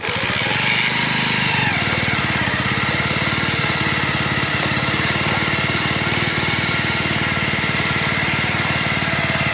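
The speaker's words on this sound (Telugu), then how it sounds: "ఇప్పుడు ఇంజిన్ స్టార్ట్ చేసినా సరే ఇది ఎక్కువసేపు బీట్గా ఉండలేదు." A Bajaj Pulsar motorcycle engine runs unevenly nearby, a loud continuous idle with a rapid irregular beat that carries on without pause throughout.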